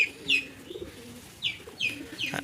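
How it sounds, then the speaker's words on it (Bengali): A young racing homer pigeon coos close by in a few soft, rising calls spaced through a quiet moment, with no talk over them. "অনেক সুন্দর কবুতরটা হ্যাঁ বাচ্চা কবুতর"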